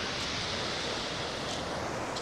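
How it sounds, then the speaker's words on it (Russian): Sea waves crash on the Koktebel shore near Karadag on the Black Sea, a loud, dense continuous roar of surf and wind with slight surges in the wash. "Волна здесь шикарно бьет."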